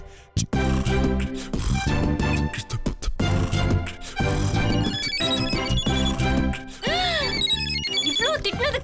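A mobile phone rings with an incoming call, loud and repeating with electronic tones among dramatic music stabs and sound effects from a Tamil TV serial.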